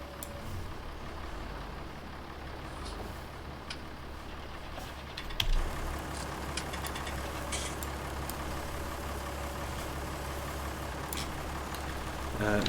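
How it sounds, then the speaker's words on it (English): Small tractor engine idling and running steadily in Farming Simulator 19, a low continuous hum with faint mechanical ticking and one brief knock partway through. "Luckily this is a small tractor."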